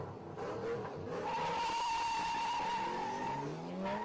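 Drift car tires squeal and skid continuously on the Eurocircuito Lousada track during a drift battle, with engine noise underneath, sustained and moderately distant for about four seconds.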